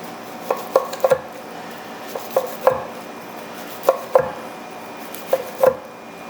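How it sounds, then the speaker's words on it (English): A knife slices through a cooked picanha steak, producing a run of short, crisp taps and knocks at an uneven pace. The cuts sound close and clear against a quiet kitchen background, with no one talking. "Let's cut it up into slices"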